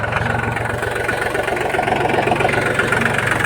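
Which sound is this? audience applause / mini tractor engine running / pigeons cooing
mini tractor engine running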